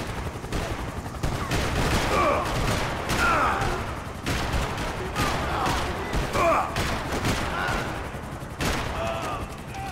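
Gunfire in the video game Max Payne 3, a dense, loud stream of rapid shots and bursts over a thick battle din, with faint voices mixed in.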